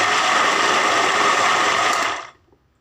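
A kitchen blender whirs loudly as it whips milk, oil and ghee into butter, one steady burst that cuts off abruptly near the end, with no talk.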